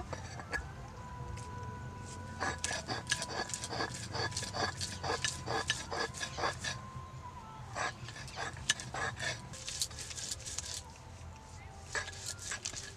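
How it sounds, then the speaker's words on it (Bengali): Roasted tomato, green chili, onion, garlic and fresh coriander ground together on a flat grinding stone, a series of quiet rhythmic rubbing and scraping strokes with soft knocks, repeating at a steady pace with faint background noise. "আমি এবার শিলে বেটে নিব পোড়া মশলাটা"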